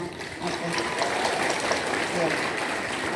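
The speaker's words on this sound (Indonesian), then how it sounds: "Saya ingin semua siswa hari ini bertepuk tangan untuk memberi aplaus kepada sekolah kita." High school students at SMA 1 Kalianda clapping together for their school at a student showcase event, a dense sustained roar of many hands in a large space, with a voice speaking faintly underneath.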